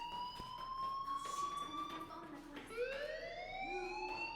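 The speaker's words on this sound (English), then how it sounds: "do you hear that fire alarm?" A shrill electronic fire alarm ringing in a school building in the Life Is Strange video game, with repeated rising tones sounding steadily under background noise and occasional voices.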